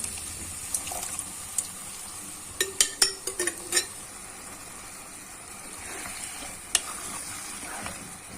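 Tomato paste and canned tomatoes frying in a pan for a karnıyarık sauce, a quiet steady hiss broken by a short burst of spoon clatters and scraping stirs near the middle, then a few isolated clicks.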